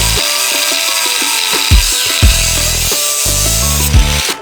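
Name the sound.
angle grinder cutting Honda Civic exhaust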